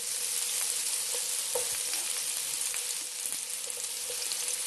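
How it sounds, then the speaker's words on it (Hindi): Carrots and mixed vegetables sauté in two tablespoons of oil in a pan for chicken chow mein, a steady loud sizzle with occasional light scraping of a spoon. "अब इसके अंदर मैं जो है सब वेजिटेबल्स जो है उनको सौते करूंगा।"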